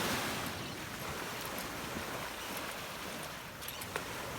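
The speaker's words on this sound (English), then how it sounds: "Waves were lapping." Waves lap on a Southwest Florida beach as a steady broadband wash of surf, with faint wind noise and a few soft high chirps over it.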